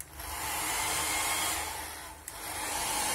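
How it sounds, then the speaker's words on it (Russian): A hotel-room hair dryer blows with a steady, loud whooshing hiss close by, with a brief click partway through and no voices. "Хороший фен."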